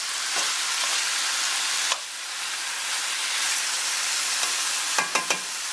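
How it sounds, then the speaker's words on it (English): Chicken and vegetables for lo mein sizzle loudly and continuously in a hot pan, a dense hiss broken by a few clinks of a utensil stirring. "I'm going to have to raise my voice because this stuff is so sizzling"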